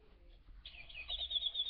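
A singing bird clock starts its hourly chime, with a quiet mechanical start followed by a bright, high warbling birdsong trill that rises and carries on steadily to the end.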